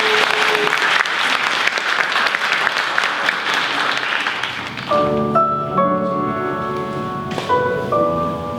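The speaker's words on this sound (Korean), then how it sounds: "뜨거운 박수로 맞이해주십시오" A concert audience gives loud, sustained applause to welcome a tenor, filling the first five seconds before giving way to piano and accompaniment music as the song begins.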